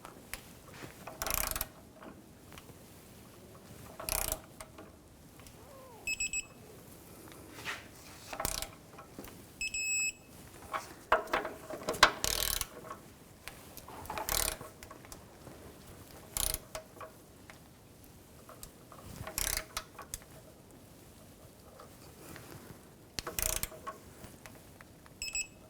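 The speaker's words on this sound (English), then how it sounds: "Now we're going to torque these to 162 foot-pounds." Quiet workshop sounds from a torque wrench tightening bolts on a 2014-2018 GMC Sierra 1500 5.3L V8 during 4WD actuator replacement: sporadic short ratcheting clicks and metallic taps spaced several seconds apart.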